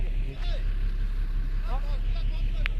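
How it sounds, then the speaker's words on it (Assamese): A boat engine runs with a steady low throbbing hum close by after starting, continuous and fairly loud, while people talk over it. "ফাইনেলি আমাৰ নাওৰ ইঞ্জিনটো ষ্টাৰ্ট হ'ল"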